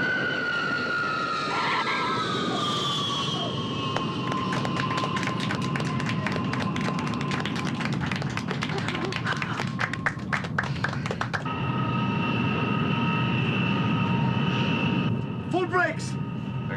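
A fixed-wing airplane lands on a runway, its engine whine loud and steady with tonal pitches sliding down, and a rapid rattling tap of wheels and brakes midway, ending in a steadier hum as it slows.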